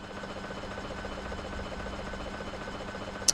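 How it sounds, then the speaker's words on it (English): Video-game helicopters arrive overhead with a steady, low rotor drone and hum at moderate volume, joined at the end by a brief sharp high click. "Choppers are here."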